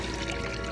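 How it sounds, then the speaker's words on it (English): Potion poured over a small volunteer in the Wonderbook Book of Potions game, a soft continuous pouring and trickling wash lasting under a second, fairly quiet and steady with no talk. "Now pour the potion onto our little volunteer."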